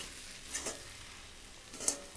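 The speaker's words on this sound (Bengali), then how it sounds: "একটু চাউটা নেড়ে নিই ভালো করে।" Chow mein noodles being stirred in a pan, a low steady sizzle broken by two brief scraping strokes, quiet and close with no voices.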